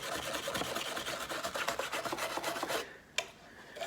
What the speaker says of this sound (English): you have to go around and wire brush all the places you're going to weld